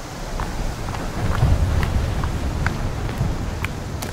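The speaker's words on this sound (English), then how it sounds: "Got some stormy weather coming, it sounds like." Steady rain with a low rumble of thunder in the video game Sons of the Forest, a continuous wash of noise swelling slightly midway, with scattered faint taps and clicks on top.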